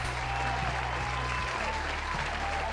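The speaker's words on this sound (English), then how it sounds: "Thank you everybody for applauding the glorious Gecko and their work." An applause sound effect plays during a livestream raid: a loud, steady wash of clapping from a crowd, with a faint tonal hum beneath and no talking.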